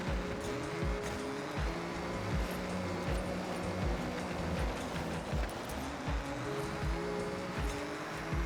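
Toyota GR Corolla engine in Forza Horizon 6, a steady loud drone with shifting harmonic tones as the car accelerates and changes gears, running continuously with no talk.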